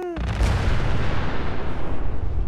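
A modded weapon fires in the video game Fallout 4, a heavy booming blast followed by a rapid rolling barrage of loud pulsing shots and rumble continuing for a couple of seconds, a voice briefly audible at the start.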